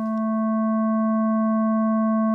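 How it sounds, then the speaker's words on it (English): A steady pure sine tone from the ACE software synthesizer, pitched an octave above LFO 1, holds loud and unchanging for the whole stretch with a few faint overtone lines above it. "the result is a sine wave an octave higher than LFO 1"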